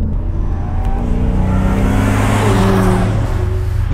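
A 2019 BMW M5 Competition F90 with four-wheel drive under way, its engine a loud, steady, close drone with rising and falling tones and no talk over it.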